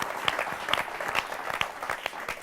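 An audience at a Holi comedy and poetry stage show claps for a performer, a moderate, steady patter of applause with no voices over it.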